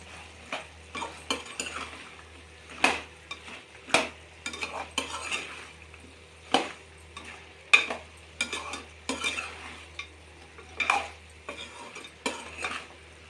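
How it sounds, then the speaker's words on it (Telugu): Goat head curry frying in a pan as chili powder is stirred in, with a spoon scraping and knocking against the pan in an irregular rhythm over a faint sizzle, close and clear, no talking. "ఈ కారం వేసి చక్కగా నీట్గా కలుపుకుందామండి"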